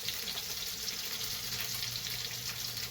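Sour cream noodle dough frying in a pan of hot grease, a steady close sizzle and crackle running unbroken throughout with no talking.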